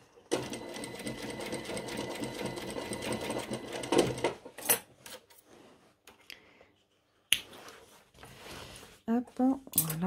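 A sewing machine topstitches a leather jacket in a continuous close whirring run, then stops, followed by scattered handling clicks and a short second burst while a person speaks.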